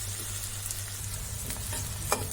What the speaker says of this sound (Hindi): मैंने हरी मिर्ची भी डाल दी ताकि हरी मिर्च भी अच्छी तरह से ये फ्राई हो जाए